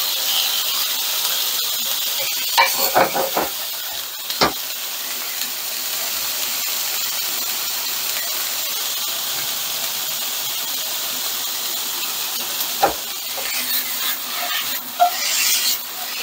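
Vegetables for fried rice cook in a hot pan, making a loud, steady hissing sizzle with a few brief clatters as they are moved around.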